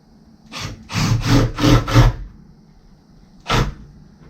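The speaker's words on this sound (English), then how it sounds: "Screwing a 2x2 to the ceiling into my furring strips" Screws being driven through a 2x2 wooden board into ceiling furring strips during a cargo trailer camper conversion, heard as about five close, loud bursts of drilling and screwing in quick succession, a pause, then one more burst, with no talk.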